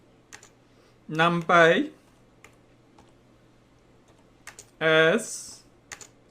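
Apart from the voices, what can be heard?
typing code on a computer keyboard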